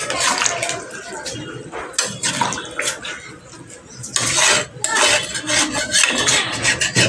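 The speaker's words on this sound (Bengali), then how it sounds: "তাই একটু বেশি করেই জল দিয়ে ঝোল বানালাম" Water poured into a pot of stew on a home kitchen stove to make a broth, a steady loud splashing pour with pauses, alongside clinking pots and utensils.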